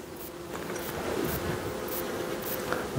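A populous honeybee colony buzzing during a late-September hive inspection, a steady, soft, close hum with occasional louder passes of individual bees.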